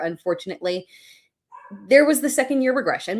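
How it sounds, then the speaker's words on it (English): A dog barks and yips in the background, with short, sharp bursts heard under a person talking. "Sorry if you guys can hear a dog going crazy in the background."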